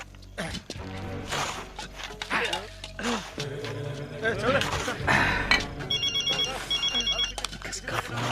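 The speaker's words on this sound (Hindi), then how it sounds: "किसका फोन आ गया?" A telephone bell rings repeatedly in a steady pattern of short bursts, moderately loud, while people speak over and around it in a dramatic film scene.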